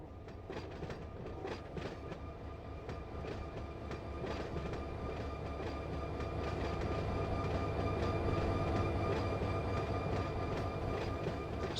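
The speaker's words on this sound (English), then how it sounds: "I hear the train." A freight train rolls steadily in Run 8 Train Simulator, a continuous low rumble with rhythmic clickety-clack of wheels over rail joints, growing slightly louder.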